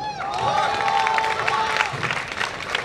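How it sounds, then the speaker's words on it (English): Audience applause and cheering from a college crowd right after a first-prize winner is announced, a dense steady wash of clapping with voices mixed in throughout. "A big round of applause for them."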